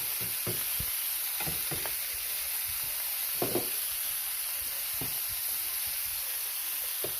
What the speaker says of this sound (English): let it sear